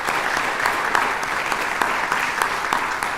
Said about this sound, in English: I think we should clap for her.